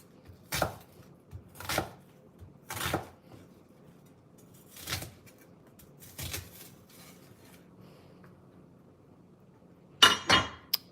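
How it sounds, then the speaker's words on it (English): A knife chops an onion on a cutting board in a home kitchen, with about seven crisp, separate strokes spaced irregularly and quiet pauses in between. "Cutting the onion"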